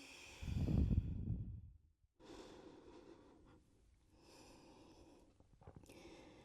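A person takes a deep breath and exhales fully while holding a forward-fold stretch during a glutes and hips workout, a close breathy exhale followed by quieter soft breathing.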